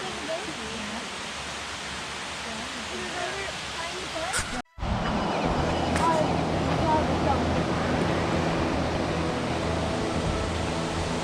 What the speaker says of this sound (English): Water began pouring from the top of the cliff and became known as Multnomah Falls.